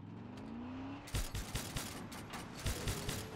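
A vehicle-mounted weapon in Far Cry 6 fires after a revving engine whine, a rapid string of loud, sharp cracking shots in uneven bursts over a running vehicle.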